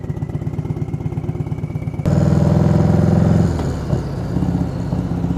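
A turbocharged 2020 Harley-Davidson Low Rider S V-twin idling with a loping rumble, then blipped to a louder, rising rev that holds before dropping back to idle, heard up close with no talk.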